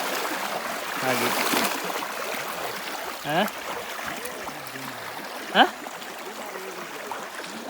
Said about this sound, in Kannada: ಮುಂದೆ ಹೋದ ಅದೇ ನೀರು ಸಿಕ್ಕಾಪಟ್ಟೆ ಫ್ಲೋ ಜಾಸ್ತಿ ಇದೆ ಇಲ್ಲಿ